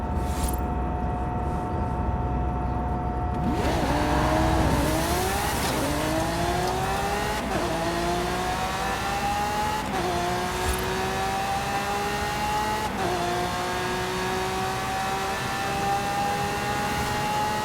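Racing cars in a video game, including a Mercedes AMG, rev hard, with engine notes climbing through repeated gear shifts and tires squealing. The loud, continuous acceleration has no talk over it.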